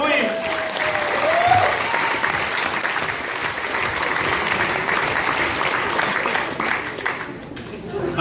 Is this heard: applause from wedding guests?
yes